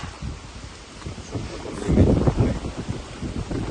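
Strong wind buffets the microphone in heavy, roaring gusts, swelling louder midway through the short stretch.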